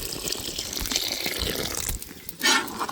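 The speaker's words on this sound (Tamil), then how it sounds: "சப்பாத்தி கல்லி வேகணுங்க, அதுக்கு ஏற்ற மாதிரி நம்ம தண்ணி சேர்த்துக்கலாம்" Water poured from a vessel into a pan of cooking spineless nopal cactus pieces, a close, steady splashing gush that pauses briefly and then surges again.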